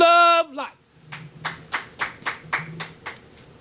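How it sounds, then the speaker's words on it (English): An audience bursts into applause at a church Easter sermon: sharp, rhythmic bursts of clapping follow the end of a shouted phrase and pulse about three times a second at close to moderate distance. "Roaring applause"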